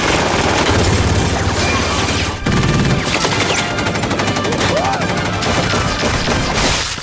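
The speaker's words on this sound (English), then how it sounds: "they just go around shooting people" Dense, loud movie-scene gunfire: sustained automatic bursts and volleys of shots from the puppet action film Team America, filling the whole stretch with a brief lull near the middle, with faint voices mixed in.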